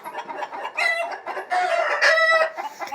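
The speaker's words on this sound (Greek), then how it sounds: "Νάτες οι κοτούλες." A Brahma hen and several chickens cluck inside a Silkie coop in a quick, irregular run of close, moderately loud calls, with short pauses between bursts.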